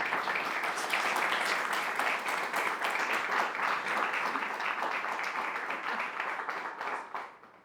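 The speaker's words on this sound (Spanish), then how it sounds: "Les voy a pedir un aplauso para ellos y para ellas." A crowd at the opening proclamation of a town's patronal festival in La Verdellada claps in a thick, sustained round of applause that stays loud for about seven seconds before tapering off.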